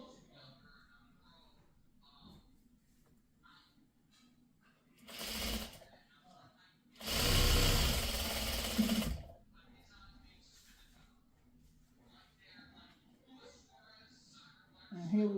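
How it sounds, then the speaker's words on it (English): A sewing machine stitches pre-cut quilt squares together for a scrappy sawtooth star quilt in two short runs, one brief and one longer. Quiet handling noises and a faint voice fill the gaps. "we're going to sew our 4 center squares together"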